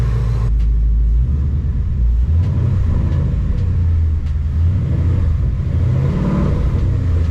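A Ford Mustang 5.0 engine with a Boss 302 intake manifold and 90mm throttle body rumbles steadily up close with low, heavy tone, rising slightly in a couple of mild revs, with no voices.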